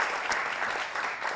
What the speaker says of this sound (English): I'd like you guys to give a round of applause to our panelists.